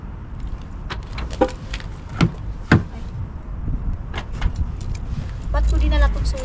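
Car keys jangle in short metallic rattles close by a parked car, with a few sharp clinks and a person talking over them.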